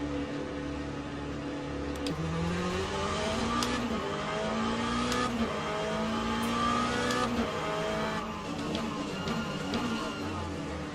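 A race car engine in Le Mans Ultimate, racing at Fuji, revs steadily, with pitch sweeping up and down through gear changes, loud and continuous for the whole stretch, while a voice talks faintly beneath.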